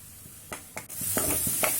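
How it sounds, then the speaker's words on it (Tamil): Broccoli sautéing in masala in a pan while being stirred, with a steady sizzle and several distinct scraping strokes of the spoon against the pan, close and clear, no one talking. "இது வந்து நல்லா சுருண்டு வதங்கி வேகணுங்க அந்தளவுக்கு நம்ம இதில் நல்லா கலந்து விட்டுகிட்டே இருக்கலாம்"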